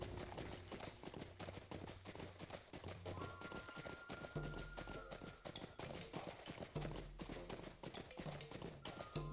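Horse hooves clip-clopping steadily as a rider travels toward a quarry mine in The Lord of the Rings Online, a continuous rhythmic trot, fairly faint, over low ambient game sound.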